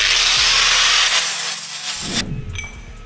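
A power grinder works a metal part for a single-turbo swap build, a loud sustained bright whine that cuts off after about two seconds, leaving a softer rattling tail.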